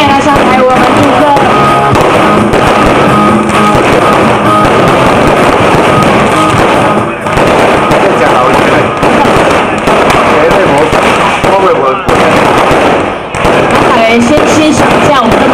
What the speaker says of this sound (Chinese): 先想一下我们美丽的烟火